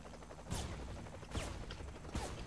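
Three heavy gunshot blasts in the video game Saints Row: The Third, spaced roughly a second apart, boom out over a constant mechanical background hum.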